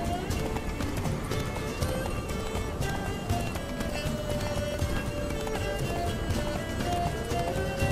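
A horse gallops steadily through The Witcher 3 video game, its quick hoofbeats running loud and continuous under a dense layer of game music and ambience, with a faint voice in the background.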